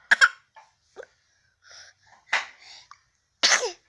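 A single sharp sneeze near the start, followed by a few softer breathy vocal sounds and a second loud sneeze-like burst toward the end, all close to the mic with no talk.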